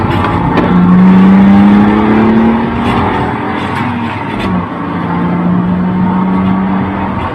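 A classic BMW car's engine revs hard while driving, rising and falling in pitch through several pulls, loud and close, with tyre and road noise underneath and no talking.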